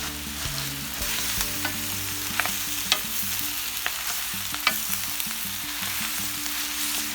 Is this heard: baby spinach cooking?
yes